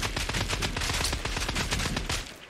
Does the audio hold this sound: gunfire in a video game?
yes